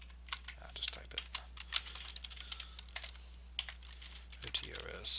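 Rapid clicking of keys on a computer keyboard, an irregular close patter of keystrokes with a low electrical hum underneath.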